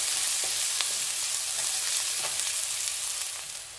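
Onions with ginger and garlic frying in a pan for an Indian Punjabi kadhi, a steady bright sizzle with scattered pops and crackles throughout, close and fairly loud, fading slightly at the end.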